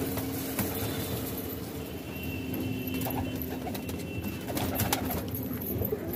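Breeding pigeons in a loft cooing while being fed grain, a dense, continuous murmur of soft coos and fluttering with scattered pecking, steady and close, no talking.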